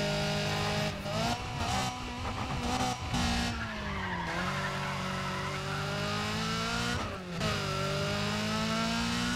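A Mini Cooper in Need for Speed ProStreet accelerates hard. The engine whines and rises through repeated gear shifts, with brief dips between them and tires squealing and skidding. The car sounds close and loud throughout.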